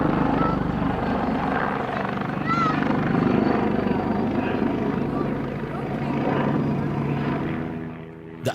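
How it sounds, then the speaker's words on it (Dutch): An Agusta A109 helicopter's steady, heavy rotor drone and engine whine continue throughout at an air show, loud and close, with no speech. "De A109 is een helikopter die wordt gebruikt voor lichttransport van troepen"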